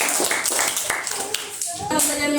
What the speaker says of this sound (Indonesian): kita kasih tepuk tangan buat aku